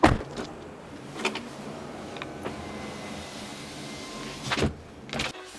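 A Rolls-Royce Phantom cabin's electric closing mechanism whirs steadily for several seconds, with soft thuds and clicks at the start and end, close by and without any talking.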